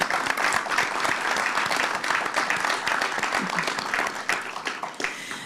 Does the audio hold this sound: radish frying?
no